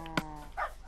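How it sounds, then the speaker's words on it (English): Dogs in the Minecraft video game give a short whimpering whine with a harmonic tone, followed by a softer second whine, near and moderately loud against a faint background hum. "All your dogs are crying."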